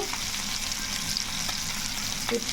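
Fish from the market shallow-frying in oil in a pan, a steady dense sizzle with crackling and occasional spits, close and constant throughout without speech.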